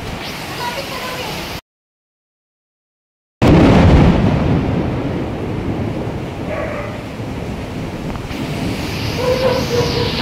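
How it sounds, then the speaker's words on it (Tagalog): Heavy thunder in a storm during flooding and a power outage, a loud rumbling roar with wind-like noise after a brief dropout, sustained and close, with a voice faintly present. "Lakas ng kulog."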